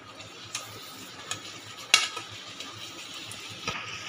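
Grated coconut being stirred into melted jaggery in a pan, soft scraping strokes with a few sharp clinks of a spoon against the metal over a low hiss.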